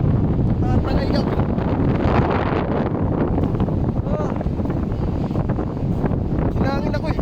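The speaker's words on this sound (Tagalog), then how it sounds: "Grabe guys, napakalakas ng hangin." Very strong wind roars continuously against the microphone at Pagudpud, Ilocos, loud and close, with voices faintly audible beneath the gusting.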